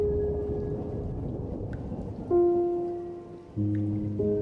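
Heavy rain with thunder in the game The Uncertain, a steady dense downpour roar with low rumbling, under sustained tonal music notes that shift partway through.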